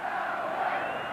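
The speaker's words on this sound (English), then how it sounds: "the crowd chanting Elway, Elway" A football stadium crowd chanting "Elway" at Denver during the 1997 NFL Wild Card game against Jacksonville. A dense, sustained roar of many voices carries from a distance in one continuous wash.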